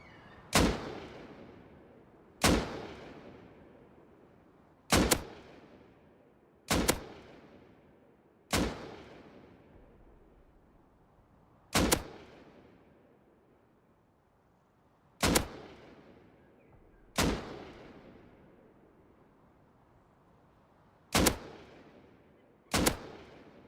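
Assault rifle in Rust firing standard ammo through iron sights, about ten loud single shots spaced irregularly over twenty-odd seconds, each a sharp crack with a decaying echo tail, no talking.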